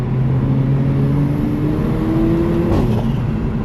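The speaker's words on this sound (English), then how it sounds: "I would not want to be anywhere else boosting around in my new AMG" A new Mercedes-AMG pulls hard along a scenic road near Christchurch, New Zealand, its engine note steady and loud, then climbing and shifting as it accelerates. The sound is close and continuous, with no talk over it.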